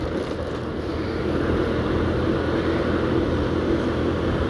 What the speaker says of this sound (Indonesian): Wih, ngebut aja nih mobil.